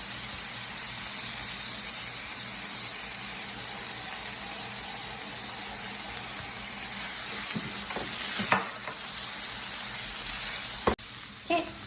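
Frozen mixed vegetables sizzling in a pan with ground turkey and onions, a steady loud hiss throughout with occasional stirring scrapes and clinks.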